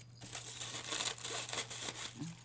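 Paper is trimmed for a gelli printing mixed media craft, giving soft, faint crinkling and tearing rustles in a quick series of strokes, quiet and close with no voices.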